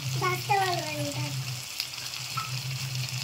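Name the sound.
Malvani masala added to sizzling onions, ginger-garlic paste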